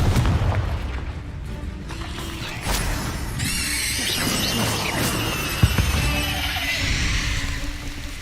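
A Confringo fire spell from Hogwarts Legacy bursts in a loud, rumbling blast, followed by crackling magical shimmer and lingering game effects.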